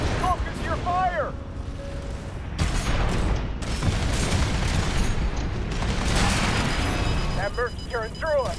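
Heavy gunfire bursts and explosions in Armored Core VI tear through a mech battle in dense, loud rolling volleys, with brief chirping electronic tones and radio voices over the din.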